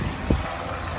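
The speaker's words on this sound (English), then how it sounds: "But I can really hear the wind." Strong gusting wind ahead of a thunderstorm rumbles and roars against the microphone in a brief, steady burst with low buffeting.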